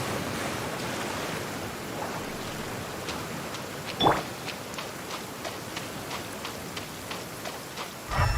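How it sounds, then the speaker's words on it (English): Rain in the Genshin Impact video game falls as a soft, steady hiss, broken by a faint chime and regular light ticking near the middle and a brief low thump at the end. "Don't stay out in the rain for too long."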